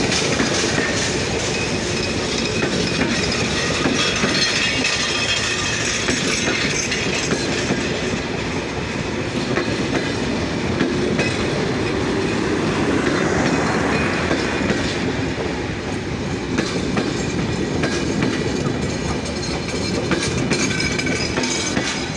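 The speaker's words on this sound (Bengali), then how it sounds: "চিলাহাটি এক্সপ্রেস ট্রেনটি বর্তমানে সৈয়দপুর ইন করলো।" The Chilahati Express, Dhaka-bound intercity train 806 hauled by locomotive 6612, rolls into Saidpur station with a loud, sustained rumble, wheel clatter and some squealing, heard close and steady throughout without talk.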